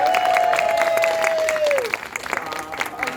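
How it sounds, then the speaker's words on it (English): Audience applause and cheering at an opening-weekend circus sideshow performance in Bristol, a dense steady clapping crowd with a sustained whistle-like tone at first, thinning slightly toward the end. "Give them a round of applause."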